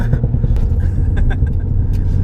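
A 320 bhp Ford Fiesta ST turbo pulls under load as boost builds, a loud, dense low engine rumble heard from inside the car with no clear talk over it.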